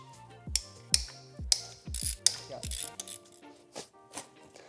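Socket ratchet working E10 bolts on a Mercedes W211 E55 AMG, a series of sharp close clicks and ratcheting bursts with short pauses between strokes, then quieter mechanical handling.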